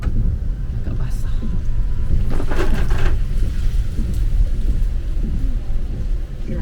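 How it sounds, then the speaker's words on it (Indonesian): Heavy rain falls steadily with a low rumble of thunder in the middle, loud and close, mixed with traffic-like rumble and a voice talking. "hujan lagi, agak basah."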